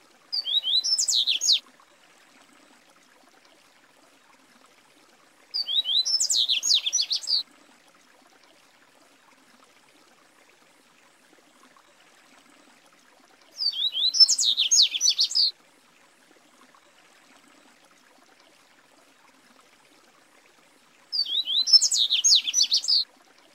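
Melodious song of a Brazilian songbird, four short bright phrases of quick trilled notes, each lasting about two seconds and separated by long silent gaps, clear and close against a quiet background.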